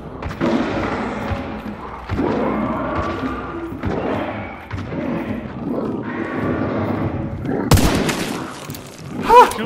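Gunfire in the video game Hunt: Showdown comes as repeated heavy shots and thumps spread over several seconds, with a sharp, bright crack near the end and more bursts after it.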